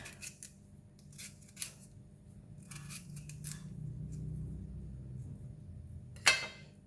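Arrowhead (ngaku) tubers being peeled by hand for chips: quiet, sporadic crisp scraping and snipping strokes up close over a low background hum, with one sharper cut near the end.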